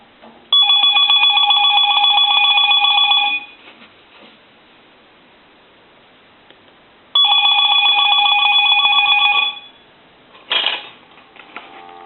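A Sitel telephone rings in two long electronic bursts of about three seconds each, separated by a pause. Each burst is loud and close, with a bright warbling tone.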